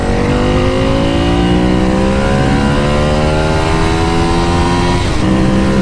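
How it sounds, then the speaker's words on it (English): A Ducati 848 superbike's V-twin engine revs loudly and steadily up close, its throaty pitch climbing through a long rising sweep before dipping briefly near the end, with no talking over it. "V-twin for the win, people."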